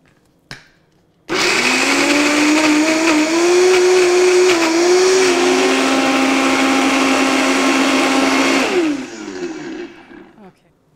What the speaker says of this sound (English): then you just turn on the high-speed blender